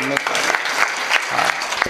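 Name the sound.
audience clapping loudly at kirtan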